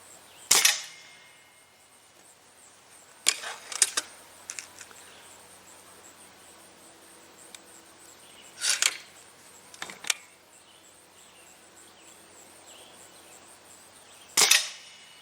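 Stoeger A30 air rifle firing RWS Ultra Shock pellets at a target: sharp, snappy shots, about five spaced several seconds apart, each with a quick metallic follow-up click or clatter, close by in a quiet setting.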